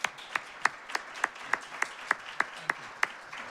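A small audience at a panel discussion on hazing in sports claps for the panelists, with sharp, evenly spaced claps standing out over a softer, steady patter of applause.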